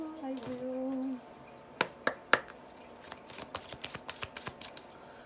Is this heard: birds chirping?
no